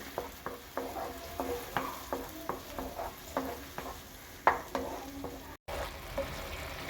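Beetroot frying in ghee, a soft steady sizzle under a regular rhythm of spoon strokes scraping and tapping the pan, with a brief dropout near the end and no talking.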